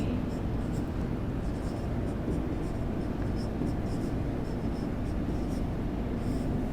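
Pen writing by hand on paper, close and steady scratching strokes in short repeated bursts over a constant background hiss, with someone speaking softly at times.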